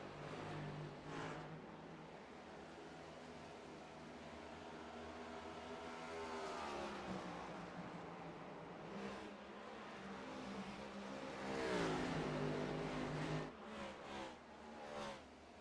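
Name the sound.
race car engines in a sim racing video game at Iowa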